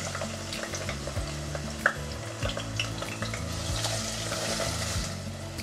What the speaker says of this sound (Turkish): Yağ kızdıktan sonra bir adet orta boy küçük küçük doğranmış soğanı tencereye alıyorum.